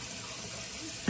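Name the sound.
tap water running into sink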